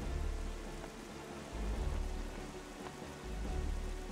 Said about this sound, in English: I love how it's raining all the way up here, still.